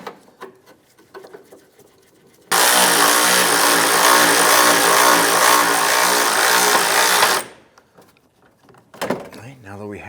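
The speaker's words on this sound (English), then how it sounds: "Go ahead and work that bolt in." Power tool driving a bolt into the rear upper control arm of a 2008-2013 Nissan Rogue, a loud steady whirring burst of about five seconds, with quieter clanks and handling noises before and after.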